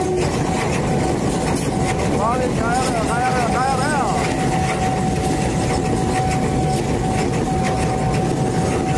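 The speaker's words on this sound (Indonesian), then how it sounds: "masuk kereta dari arah Pasar Senen" A commuter train arriving from Pasar Senen rumbles past nearby with a steady, loud roar and a sustained tonal whine, while a person speaks briefly over it.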